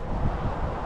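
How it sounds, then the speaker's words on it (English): Strong wind gusts buffet the microphone outdoors beside a koi pond, a steady, loud rumbling roar with no voices. "It is really windy"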